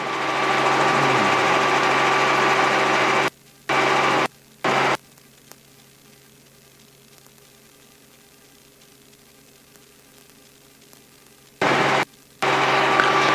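Robinson R44 helicopter engine and rotor noise during run-on landings, a steady droning hum broken by abrupt cut-outs into near silence before the loud drone returns in short chunks.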